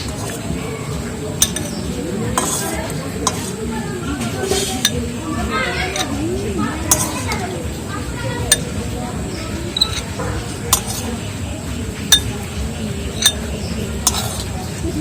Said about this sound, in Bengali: এইভাবে তুলে নেবো চামচে করে বাটিতে তুলে নেবো